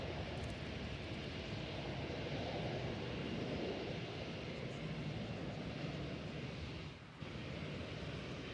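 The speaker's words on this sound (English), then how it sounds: "Off to Des Moines in Iowa goes this Airbus A319" An American Airlines Airbus A319 departs DFW Airport for Des Moines, its engines a steady, moderately distant roar with some wind buffeting and a brief dip near the end, no voices.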